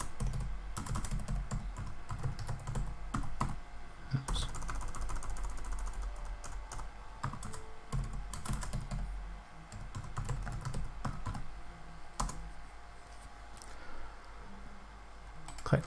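Typing on a computer keyboard to rename a query in Power BI, a steady run of close, crisp key clicks with brief pauses between bursts, no talking.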